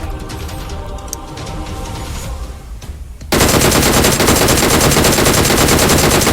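A loud, sustained burst of automatic gunfire in PUBG Mobile kicks in suddenly a little past three seconds, after quieter scattered game noise, and continues as a dense, unbroken rattle to the end, with no speech.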